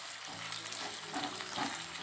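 Onions sizzle and fry in a pan over a high gas flame while being stirred, a steady bright crackle with soft scraping, close and continuous.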